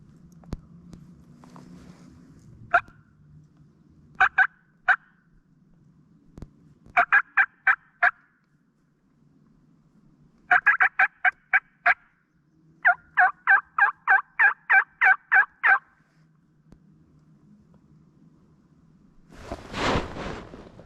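Bursts of wild turkey gobbling, fairly distant, come in repeated rattling volleys separated by pauses, with a louder rushing noise near the end.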